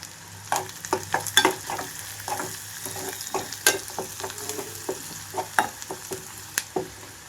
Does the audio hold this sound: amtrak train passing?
no